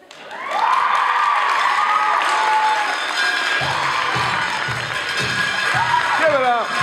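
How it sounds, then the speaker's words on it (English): A crowd at the Louder Than a Bomb Great Plains 2017 youth poetry slam semi-final applauds the poets from Elkhorn, with loud sustained clapping, cheers and whoops, and voices rising over the noise. "Keep the applause going for your poets from Elkhorn."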